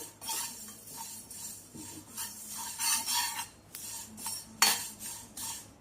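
Curry leaves and fenugreek seeds dry-roasting in a pan, stirred with a utensil: soft scraping strokes and light clinks against the metal, with a faint crackle underneath, close and moderately quiet.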